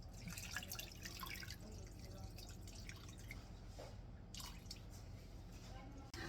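Water pouring and dripping into a cooking pot of pork for sinigang, a steady splashing trickle that runs throughout at close range with some kitchen clatter.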